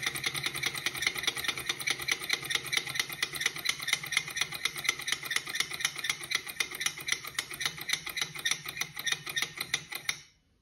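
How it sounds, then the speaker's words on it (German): Small Stirling engine heated by an alcohol burner, running with a steady fast mechanical clatter that gradually loosens after the flame is put out, then stops abruptly near the end; no talking. "Das ist der Stirling-Motor."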